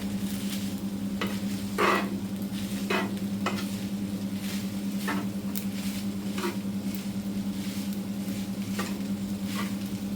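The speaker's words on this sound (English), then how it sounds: "Stir it all together." Beef fried rice made with leftovers is stirred in a crowded frying pan, giving a steady sizzle with repeated scraping and clattering strokes of the utensil throughout.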